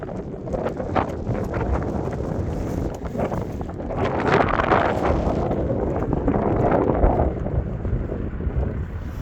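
Strong wind buffets the microphone in a steady, roaring rush that swells and eases slightly, with no voices heard.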